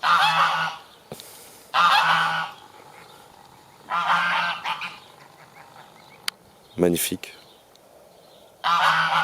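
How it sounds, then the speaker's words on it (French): Domestic geese honk in loud, repeated bursts close by in a small orchard, with short pauses between calls and a brief spoken word in the middle. "Je peux rester des heures à regarder les oies, à les écouter"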